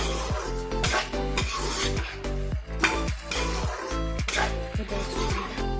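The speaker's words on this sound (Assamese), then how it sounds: "মই মাংসখিনি মাজে মাজে এনেদৰে লৰাই দিছো" A spoon stirs duck meat with ash gourd in a pan, giving rhythmic scraping strokes roughly twice a second against a soft sizzle, close and clear.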